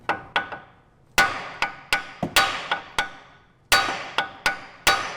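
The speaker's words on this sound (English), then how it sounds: "get your lump hammer and give it a few taps just on the end of the knuckle right there" A lump hammer strikes the end of a steering knuckle on a Grand Caravan about a dozen times in irregular bursts, each sharp clang ringing briefly before the next, close and loud with no talking.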